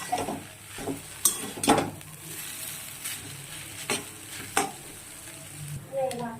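Chowmein frying in a pan while being stirred, with a steady sizzle under repeated scraping and clinking strokes of the spatula, close and moderately loud with no talk.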